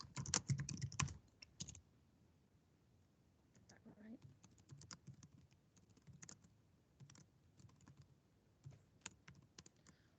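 Someone types a business name on a computer keyboard, giving a run of close, quick key clicks, with louder handling noise at the start and faint speech-like sounds beneath.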